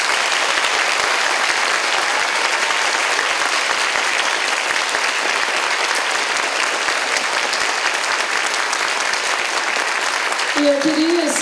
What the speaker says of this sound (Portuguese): Então, meu querido público, aplaudam. Loucamente.